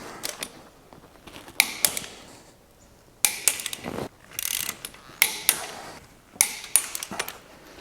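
A ratchet clicks in short bursts of several strokes each, tightening the swivel hub bolts on a Nissan Patrol to torque, close and distinct, with metallic pings and pauses between the bursts and no talk.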